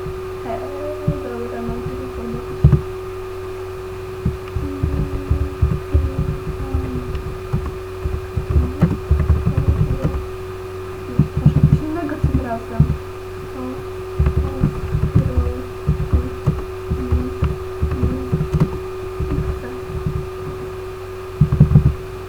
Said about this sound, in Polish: jak słyszycie właśnie taki szumi komputer i nagrywa się to tak, że no szumi właśnie